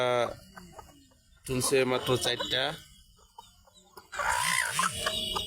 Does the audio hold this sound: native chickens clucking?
yes